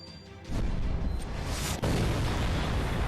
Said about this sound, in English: Fire the final weapon.